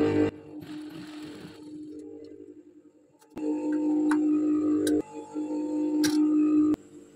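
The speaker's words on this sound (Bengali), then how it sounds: "এখন আমি সেলাই করে দেব।" A sewing machine stitching the neckline of a child's dress: a short run of stitching, a pause, then a longer steady mechanical whirr with ticking clicks, close and fairly loud.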